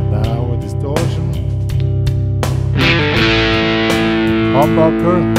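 An electric guitar with a distortion effect plays a steady, saturated sustain, with chord changes and picked notes over it. It is loud and continuous, with no voices.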